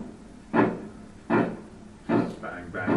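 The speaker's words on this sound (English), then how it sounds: "this is a recording of a vessel pile driving" Underwater recording of vessel pile driving from 500 metres away: four dull, muffled impacts spaced at regular intervals over a low background rumble.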